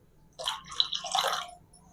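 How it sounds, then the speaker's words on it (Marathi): Water poured into a besan and fresh buttermilk mixture for traditional kadhi arrives in a few short, splashy gurgling bursts over about a second, close and moderately loud against a quiet background. "जेवढी आता आपल्याला कढी बनवायची आहे तेवढी आपण मी पाणी घालून घेते"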